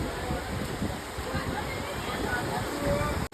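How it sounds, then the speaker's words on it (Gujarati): Steady rushing, sloshing seawater flooding in among shops at Gopnath on the coast, filling the whole stretch at an even level, with faint voices mixed underneath. "દરિયાનું પાણી જો અંદર આવી ગયું"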